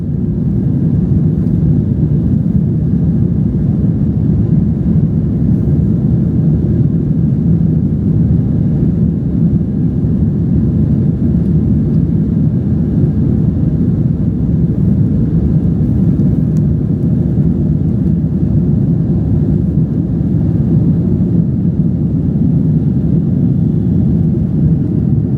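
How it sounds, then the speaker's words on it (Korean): Inside the darkened cabin of a WestJet Boeing 787 on a predawn takeoff roll, a loud, steady low-frequency engine roar and rumble drones on without pause for about twenty-five seconds. "해 뜨기 전 이륙이라 캐빈 소등을 하고 이륙합니다."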